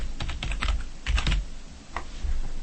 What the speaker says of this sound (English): so I will now type my text.